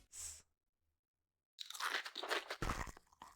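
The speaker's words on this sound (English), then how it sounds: "Oh, we hear chewing again." Crunchy chewing from the video game Blue Archive: one short bite at the start, a second of silence, then a dense stretch of loud, close, wet crunching and munching that carries on to the end.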